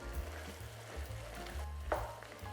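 Lamb stew being stirred in a pot with vegetables, soft scraping and wet shuffling with a faint simmer, quiet and close, a few spoon knocks, no voice.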